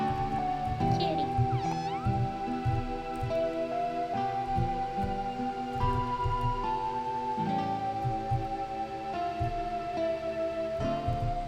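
Cat meows from the video game OMORI repeat over looping game music with a steady beat, the cries rising and wavering clearly above the backdrop.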